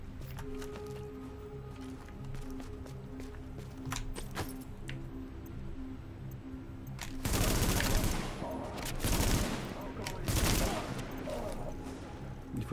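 Gunfire in Tom Clancy's The Division: scattered single shots early on, then heavier bursts of automatic fire in several loud clusters, with game ambience underneath.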